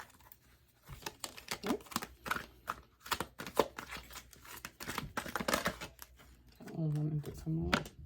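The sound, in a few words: shuffling tarot cards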